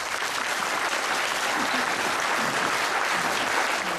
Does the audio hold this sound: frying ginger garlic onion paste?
no